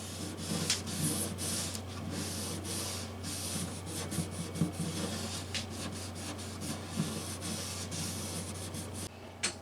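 220-grit sandpaper rubs across the wood of a vintage 1940s Gibson J-45 acoustic guitar. The scratchy hiss runs steadily for about nine seconds, close and fairly quiet, pulsing with each back-and-forth stroke over a low constant hum.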